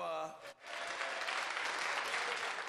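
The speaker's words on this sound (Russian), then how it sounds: "Редкие овации от оппозиционных депутатов" Opposition MPs in the House of Commons chamber break into sparse, continuous applause after a brief voice, a steady wash of clapping at moderate distance.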